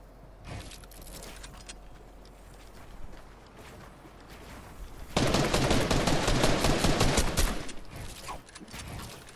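A player's gun fires in a Fortnite match, a dense burst of rapid shots for roughly two seconds, louder than the quieter clatter and rustling that come before it.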